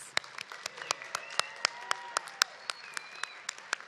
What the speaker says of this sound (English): Let's give this outstanding class of graduates a well-earned round of applause.